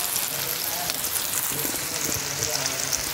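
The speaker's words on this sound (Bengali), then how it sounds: "পেঁয়াজ দিছি, পেঁয়াজ বাজি করতেছি" Onions sizzle and fry in a pan on a home stove, a steady dense crackling hiss with faint spattering, close and constant, while a person talks over it.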